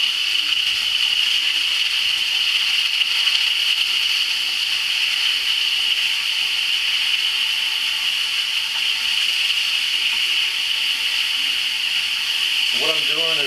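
Chicken browning in a pan for a pasta with chicken and veggies dish, a steady loud sizzle and hiss that runs unbroken the whole time.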